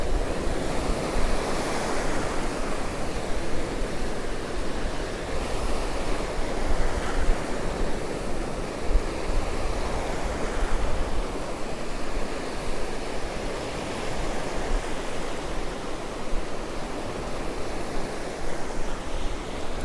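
Continuous breaking surf on Cromer beach, growing waves rolling in as a dense, steady roar close by, with wind rushing across the microphone throughout.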